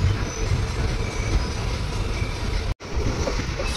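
A train pulls out of Sanjan railway station in India, a station set in forest, with a steady loud rumble of wheels and carriages that breaks off for an instant before resuming.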